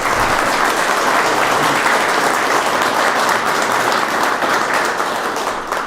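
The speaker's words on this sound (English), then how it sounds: "Let's give Governor DeWine a big round of applause if we can." A large crowd applauds loudly and steadily for Ohio Governor DeWine at a Cleveland ceremony renaming a stretch of I-90 for a fallen firefighter; the clapping is sustained and dense throughout.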